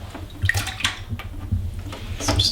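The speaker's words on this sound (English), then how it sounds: "Okay, and now we can transfer it to the carboy." Cooled homebrew rye IPA wort being transferred into a carboy, a steady trickling, splashing pour with intermittent gurgles and sloshes, fairly close and continuous with no talk.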